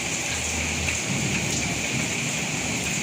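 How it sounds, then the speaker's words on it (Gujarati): Dense, steady downpour of heavy April rain in Bhavnagar, Gujarat, roars without pause, with a low rumble underneath, close and loud throughout. "જો વરસાદ કેટલો ફૂલ વરસાદ પડે છે."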